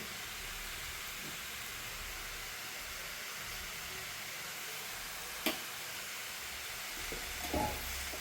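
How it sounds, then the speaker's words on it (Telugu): Grated carrot frying in oil, a steady close hiss and sizzle with a single sharp clink near the middle and a brief rattle toward the end, no voices. "క్యారెట్ అయితే బాగా నూనెలో బాగా వేగుతుంది"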